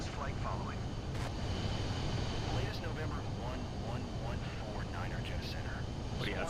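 Pilatus PC-24 business jet engine in Microsoft Flight Simulator 2024, a steady broadband roar and whine that holds throughout at a constant level, with a faint voice murmuring underneath.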